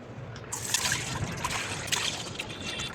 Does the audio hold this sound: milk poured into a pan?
yes